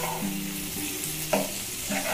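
Tiger prawns frying in a pan over low heat, a steady close sizzle with a few soft stirring and turning sounds and a light clink partway through.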